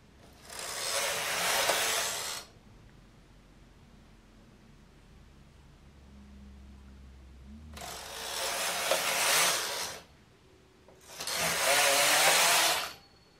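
A knitting machine carriage makes three rasping passes while short rowing a pinafore dress, each a few seconds of loud, broad mechanical whirring with short quiet gaps between, and no voices.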